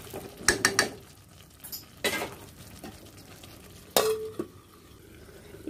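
Mutton being sautéed (kosha) in a pot, a few sharp metal clanks and scrapes of a spoon against the pot in separate bursts over a low sizzling background.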